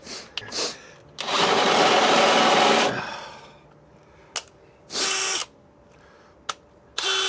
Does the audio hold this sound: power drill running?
yes